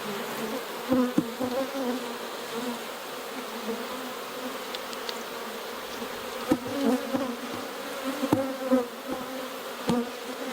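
Honey bees, drones among them, buzz steadily around an open hive during an inspection, a dense droning hum close by with occasional sharper passes and faint knocks, no talking.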